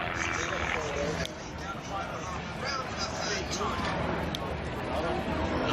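A propeller aircraft flies aerobatic rolls at an air festival, its engine a faint continuous drone under a commentator's voice and crowd noise.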